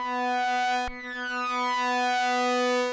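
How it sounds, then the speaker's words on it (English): Oscillator sync tone from an Analogue Solutions Fusebox synthesizer: a steady, bright, harmonically rich buzzing drone with a brief dip and click near the one-second mark, then holding evenly to the end. "we got a nice sync noise there"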